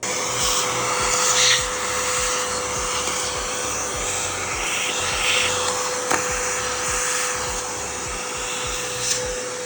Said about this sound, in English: we got all the nasty stuff that could fall into our motor and contaminate it sucked up